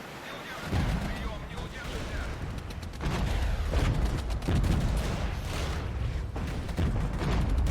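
Gunfire and artillery in the war strategy game Regiments: a dense, continuous rumble of distant shelling with heavy booms and crackling rifle and machine-gun fire layered throughout, loud and unbroken.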